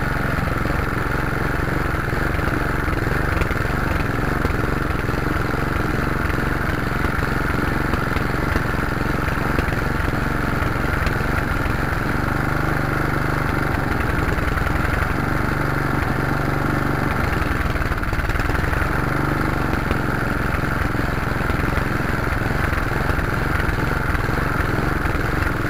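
A lawn mower engine, set to mowing mode after being restarted, runs loud and close without pause, its idle pulsing unevenly as the governor hunts and fails to hold a steady speed.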